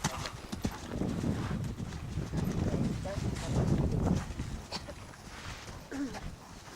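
A horse galloping in a riding lesson, its hooves beating a quick repeating clip-clop rhythm close by, while an instructor talks over the hoofbeats.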